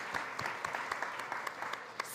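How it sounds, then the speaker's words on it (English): Light, scattered clapping from a food summit audience thanking sponsors, separate claps standing out in an uneven rhythm, fairly quiet and brief. "Round of applause for them, please."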